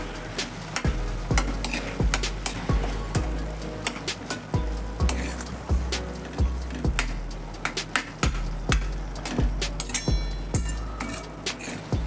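Butter sizzles in a pan of paneer makhanwala while a spoon stirs and scrapes, making regular metallic clinks and knocks over a continuous frying hiss, close up and without speech.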